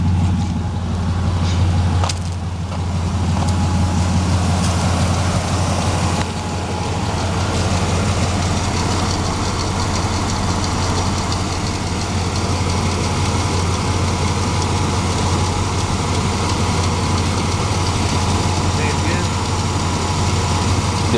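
A truck engine idling steadily as it warms up, a constant low rumble held at a close, even level throughout, with some talk over it.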